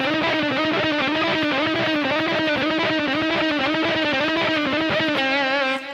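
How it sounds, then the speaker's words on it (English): Rapid-fire blues lick on an overdriven electric guitar, alternate-picked in a fast repeating pattern of even notes, loud and close, cutting off abruptly at the end with no one talking. "I actually use it as a rapid fire blues lick"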